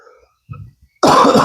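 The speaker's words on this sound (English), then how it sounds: "Still got a cough." A harsh, loud cough bursts out near the mic and continues for about half a second, coming after a short throat-clearing sound and a stretch of near silence, from someone who says they still have a lingering cough.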